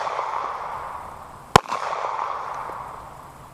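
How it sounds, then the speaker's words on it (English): A single sharp, loud gunshot from a Sig Sauer P238 pistol firing .380 full metal jacket into a 1-inch polyurea target, one crisp crack rising out of steady background noise. "full metal jacket, fired from a Sig Sauer P238"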